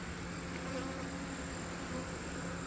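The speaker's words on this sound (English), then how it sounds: "Look at all these bees." Honey bees swarming around painted beehives, a dense continuous buzzing drone close by that holds at an even level throughout, with no speech.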